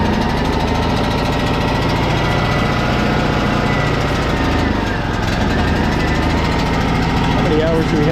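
A small gas engine, just started on choke, runs steadily and loud throughout, a continuous rough drone with a faint voice speaking briefly near the end.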